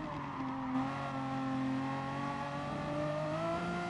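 A race car in Gran Turismo Sport pulls hard after a downshift, its engine note rising steadily in a smooth, continuous whine that stays fairly faint and steady, with no talk over it.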